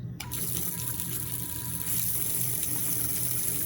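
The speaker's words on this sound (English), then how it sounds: "turn on that water, and hopefully we've made a good vacuum" A laboratory water tap runs steadily into a water-aspirator vacuum setup for a Büchner funnel during aspirin synthesis, a close, constant rushing flow after a brief click at the start, with no talk.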